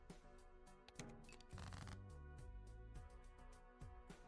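Cards shuffle in the video game Balatro, a fast run of crisp flicking and riffling clicks with a denser burst in the middle, steady and fairly loud with no voices.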